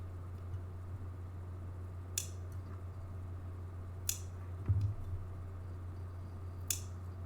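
Scissors trimming excess yarn from a loom knitting piece: three brief, crisp snips spaced a couple of seconds apart, quiet and close over a low steady hum, with no talk.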